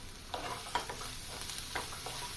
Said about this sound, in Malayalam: വീണ്ടും നന്നായിട്ട് ഒന്നുകൂടി ഇളക്കി കൊടുക്കാം.